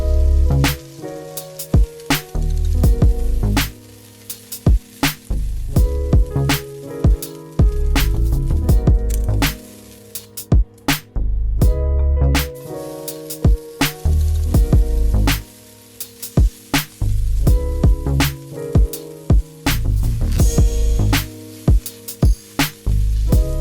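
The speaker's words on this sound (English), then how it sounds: "So I'm going to be frying this in batches." Beef fries in batches in a hot wok, crackling and popping in sharp bursts over steady sizzle, with background music running throughout.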